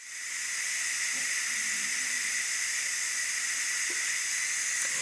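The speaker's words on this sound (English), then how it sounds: "You can see there's a lot of steam, or here, a lot of steam coming out." Steady, loud hiss of steam venting from a Ninja Foodi pressure cooker after steaming stuffed peppers, a continuous broadband rush with no talking.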